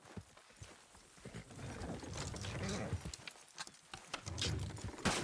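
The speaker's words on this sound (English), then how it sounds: "Horses will pull it clean down." Horses in Red Dead Redemption 2 strain to pull down a structure, with irregular hoof clops, thuds and creaking effort sounds shifting near and loud, and no talk over them.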